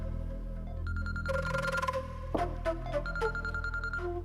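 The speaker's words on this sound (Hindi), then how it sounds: "किसका फोन है?" A phone rings in a domestic drama scene, a repeating electronic ringtone pattern of short tonal bursts heard clearly indoors, with no one speaking over it.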